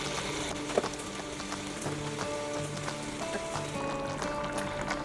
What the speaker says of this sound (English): Now I'm going to gently drop my soaking Seeraga Samba rice into the biryani's base gravy